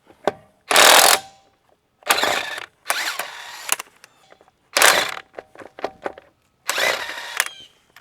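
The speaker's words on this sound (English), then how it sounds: "you should break these lug nuts loose before you jack it up" Ratchet wrench with a 19mm socket breaking loose lug nuts on a 2014-2020 GM truck wheel, sharp ratcheting bursts repeated about five times with short gaps, close and loud.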